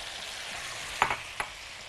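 Onions hit a pan where chicken has been cooking and fry with a steady, close sizzle, marked by a couple of sharp clicks of a utensil stirring.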